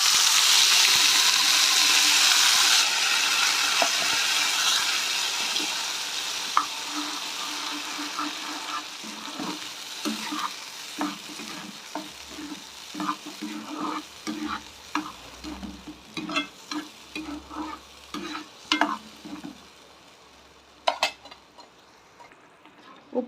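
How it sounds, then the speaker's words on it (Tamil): Ground coriander paste frying in a pan, a strong hiss that fades over the first seconds, then repeated scraping and stirring strokes with soft clinks against the pan, close by. "இப்போ அரைச்சி வச்சுருக்க கொத்தமல்லி இதை சேர்த்துக்குவோம்."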